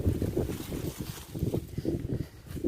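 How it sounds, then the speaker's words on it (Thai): Strong wind buffets the microphone in a potato field, a steady low roaring rush with gusty swells and no clear voices. "ลมแรงมากนะครับทุกท่าน"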